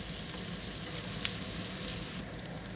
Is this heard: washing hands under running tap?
no